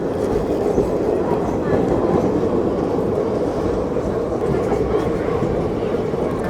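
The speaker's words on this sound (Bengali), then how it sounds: "চলে যাচ্ছে ট্রেন" A night train rumbles steadily past at close range, a dense low roar with faint rhythmic clatter running through the whole stretch.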